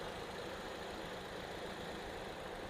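A Maruti Swift VXi car engine idles, a steady, even, continuous hum recorded close with no changes in pitch or loudness.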